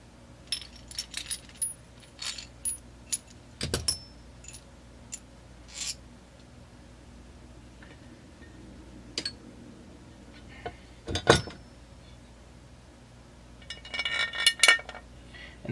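Metal nuts and assorted washers being handled and slid onto a threaded rod for a Stihl MS440 crankcase build, a series of sharp separate clinks and jingles with quiet gaps between.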